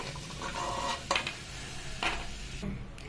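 Peanuts frying in a pan for gongura pachadi, a soft continuous sizzle with a few sharp scraping stirs and light clinks of a spoon against the pan.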